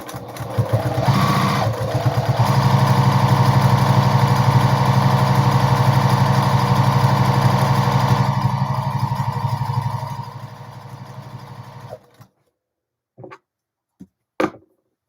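A Juki TL-2010Q sewing machine stitches webbing onto fabric in a loud, fast, steady mechanical whir that runs for about ten seconds, slows, and then stops, followed by a few isolated clicks and taps.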